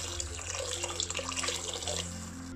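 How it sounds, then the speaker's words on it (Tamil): Water pours steadily into a pot while puttu cooks in a home kitchen, a continuous splashing rush with no talk. "இதுலேயும் கொஞ்சமாக நான் தண்ணி சேர்க்குறேன்."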